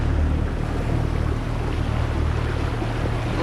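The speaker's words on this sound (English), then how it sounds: "Just real quick, look at these waves." Rough, wind-whipped sea with standing waves, heard from aboard a small fishing boat early in the season: a steady, loud wash of water and wind rumble that fills the whole stretch, with no voices.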